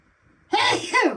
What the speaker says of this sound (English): Had to sneeze twice.